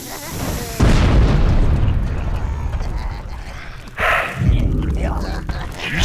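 A bomb blows up in the game Overlord, a sudden loud boom that fades into a lingering rumble, followed seconds later by a second, shorter blast.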